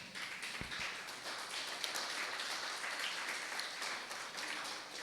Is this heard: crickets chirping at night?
no